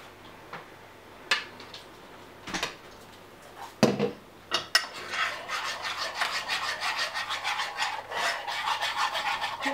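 A whisk scraping through an eggy sauce mixture in a pan for eggs Benedict, starting with a few sharp isolated clinks and then settling into a continuous rapid rhythmic scraping and rubbing, close and moderately loud.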